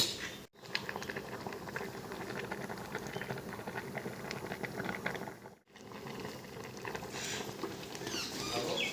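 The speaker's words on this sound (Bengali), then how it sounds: "এবার সব কিছুকে ভালো করে একটু সেদ্ধ করে নেব" Vegetables and pumpkin leaves boil in a pot for Bengali fena bhat, a steady close bubbling and pattering that runs throughout with two brief dropouts.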